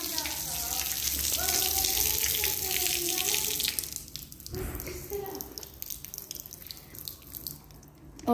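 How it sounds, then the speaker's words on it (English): Water squirted at a car mirror gushes and splashes steadily for about four seconds, then breaks into softer trickles and drips, close by and fairly quiet. "So we're gonna get it out by squirting water at it."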